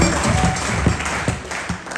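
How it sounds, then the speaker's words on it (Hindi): Applause from an audience at a Safe Shop event, a dense wash of clapping that stays fairly loud and steady for two seconds with a few sharper claps standing out. "जोरदार तालियां होनी चाहिए"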